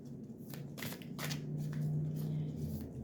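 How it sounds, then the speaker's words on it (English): Tarot cards being shuffled with quick papery riffles and soft flicks, close and fairly quiet, with a low steady hum underneath. "I think I'll just do a couple of these shuffles, and then we'll pull some cards."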